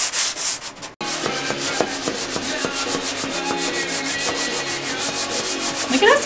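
Rhythmic back-and-forth sanding of a sailboat's interior surfaces before painting, steady close strokes after a brief pause near the start, with no talk.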